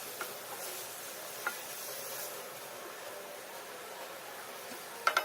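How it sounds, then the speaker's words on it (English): Mince frying in a pan gives off a soft, constant sizzle with an occasional faint stir or tap and a few quick clicks near the end, quiet and without any voices. "we're going to fry the mince for at least 1 whole minute"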